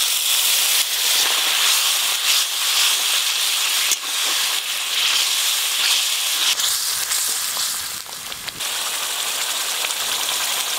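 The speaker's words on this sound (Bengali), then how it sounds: "অল্প একটু জল দেব।" Hot egg curry masala in a pan hisses and sizzles steadily after a little water is added, a loud, dense, continuous frying hiss with brief crackles throughout, no voices.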